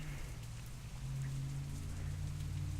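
Steady rain falls in the visual novel game Katawa Shoujo, a constant dense patter under gray storm clouds, with a low droning hum beneath and no voices.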